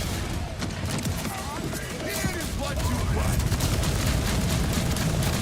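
A gun in Borderlands fires rapidly in a dense, sustained volley, loud and close, with booming impacts and a voice talking over it throughout.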